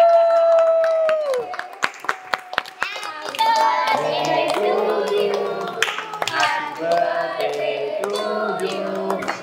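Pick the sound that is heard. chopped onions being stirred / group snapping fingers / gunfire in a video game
group snapping fingers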